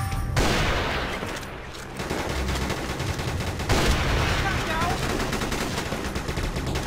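F2X sniper rifle gunfire in a Vietnamese online shooter game, steady crackling shots with a couple of stronger reports, running under a voice throughout.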